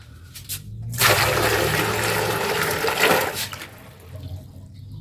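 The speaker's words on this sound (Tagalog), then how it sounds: "Buhusan natin para yung mga simento di bumara doon sa drainage." Water is poured into a newly installed toilet bowl to wash cement residue down the drain, a loud rushing, gurgling pour lasting a few seconds before tapering to a quieter trickle.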